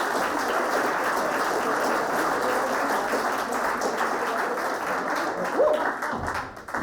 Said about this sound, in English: Give a round of applause for Paul, everyone